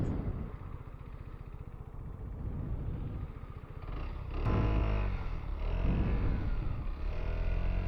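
An Italjet Dragster 125 scooter engine drones steadily while riding at night, with its pitch rising partway through as the rider speeds up and wind rushing across the mic.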